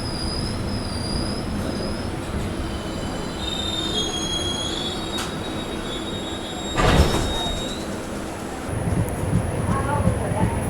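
A passenger train on the Jagdalpur to Visakhapatnam line near Araku Valley rolls along the rails with a continuous rumble and high, thin wheel squeals, plus a brief louder clattering burst partway through.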